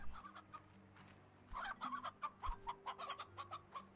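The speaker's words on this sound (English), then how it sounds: "This weird little corner with a bunch of chickens." Chickens in the Slime Rancher video game cluck in a quick run of short, close calls, sparse at first and then busier, with no talk over them.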